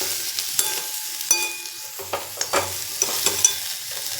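Karpuravalli banana thuvaiyal frying in a pan, stirred with repeated scraping clicks over a soft sizzle, close and moderately quiet with no talking.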